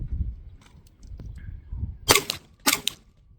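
A pistol fires two sharp, loud shots in quick succession at a target about 40 yards away outdoors. They follow a few quiet handling noises.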